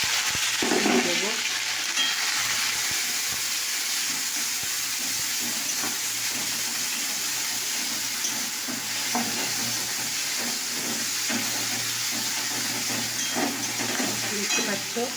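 A paste of grated ginger, garlic and onion sizzles and hisses steadily in a frying pan, with occasional stirring scrapes breaking through the continuous frying noise.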